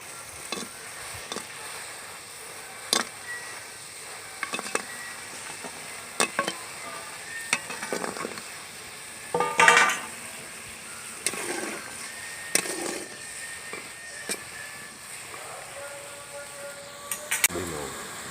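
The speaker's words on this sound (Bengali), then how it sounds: "গরম গরম ল্যাংচাগুলো এবার আমি গরম গরম চিনি শিরার মধ্যে দিয়ে দেবো।" Hot langcha, fried Bengali sweets, going into hot sugar syrup in a home kitchen, with scattered clinks, stirring scrapes and a soft sizzle in irregular bursts at moderate volume, no talking.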